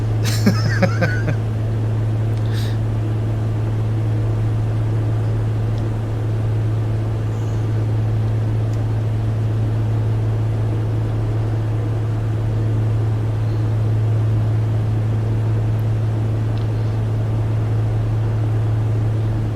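Steady engine drone from another aircraft in the Prepar3D flight simulator, near a Cessna 182 Skylane on a cross-country flight over southern England. It holds as a continuous, even hum throughout, with a few faint clicks near the start.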